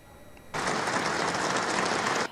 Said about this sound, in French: Une salve d'applaudissements pour ce discours